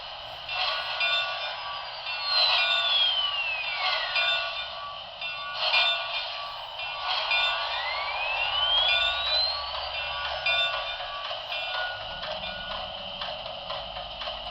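A Broadway Limited Imports four-truck Shay model locomotive's electronic sound bell rings in a steady, repeated clang, clear and close, with no talking.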